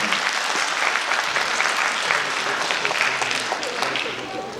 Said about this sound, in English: May we have a huge round of applause for these people.